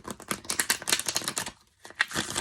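A deck of slick, shiny-cardstock tarot cards is riffle-shuffled up close, with quick fluttering bursts of card flicks, a brief pause, then another rapid riffle, crisp and near with no talking.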